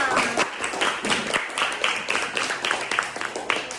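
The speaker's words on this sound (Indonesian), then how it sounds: "tepuk tangan dulu untuk kita semua" A class of students claps hands in a classroom during a lesson, a steady patter of overlapping claps at moderate volume, fairly close, with no talking on top.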